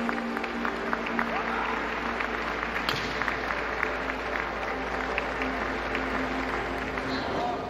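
Applause at a kendo match after a decisive bout, steady clapping from a crowd in a large hall, with a soft murmur of voices beneath.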